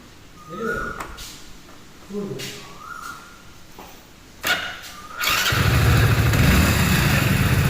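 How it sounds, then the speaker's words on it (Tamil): A Hero Splendor BS6 motorcycle with a starting fault: a few short cranking attempts, then the engine catches and runs with a steady loud idle, close by, with a person talking. "அதில் இந்த பொசிஷனில் வச்சு ஸ்டார்ட் பண்ணுறோம் வண்டி."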